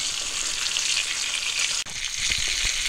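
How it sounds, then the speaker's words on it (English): Battered sauger fish fillets frying in a pan, a dense steady sizzle close up with a brief dip in the crackle partway through and low clatter near the end. "Now that our fish is frying good,"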